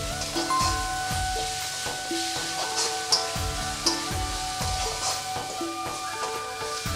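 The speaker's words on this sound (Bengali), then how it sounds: "সব কিছু মশলা একসঙ্গে ভালো করে ভেজে নেব।" Ground cumin, turmeric, chilli powder and salt fry together in a pan for a fish curry, a continuous close sizzle with light scraping and a few sharp clicks, steady in level with no talking.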